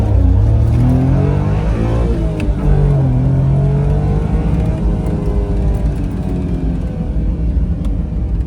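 A red 4x100 vehicle's stock engine idles and revs with a deep, throaty rumble, steady and loud up close, rising and falling in pitch over several seconds.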